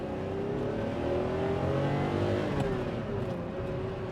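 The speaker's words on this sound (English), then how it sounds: "Wonderful flat 12 sound." A 1986 Ferrari Testarossa Monospecchio's flat-12 engine accelerates on the road, heard from inside the cabin as a continuous rising, throaty drone with a brief gear change partway through.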